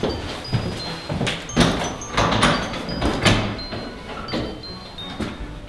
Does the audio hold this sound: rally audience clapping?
no